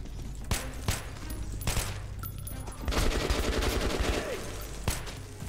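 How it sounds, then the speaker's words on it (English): Gunfire rattles through the Metro video game, with sharp single shots at first and then a dense automatic burst in the middle. The shooting sits over a steady game background and stays moderately loud throughout. "Bro, stop shooting at me."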